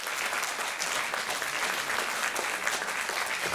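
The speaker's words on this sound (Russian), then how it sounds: "Аплодисменты нам хорошие." Steady audience applause fills a concert hall during a holiday song programme, a dense continuous patter of many hands at even loudness with no voices over it.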